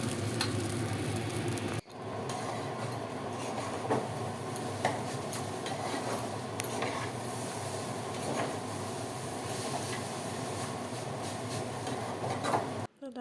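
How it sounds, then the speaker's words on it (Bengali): Chow mein frying in a pan, a steady dense sizzle with faint stirring clicks running throughout, fairly close, briefly cut short near the start. "ওখানে আমি এখন চাউমিন ভাজাও শুরু করে দিয়েছি"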